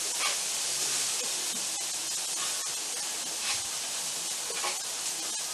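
Onions cook in butter in a pan with a soft, even hiss of gentle sizzling, steady and fairly quiet throughout with faint occasional crackles.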